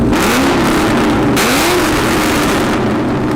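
A car engine revs hard, a loud sustained roar that climbs and dips in pitch, then settles into a steady high drone, close and alone.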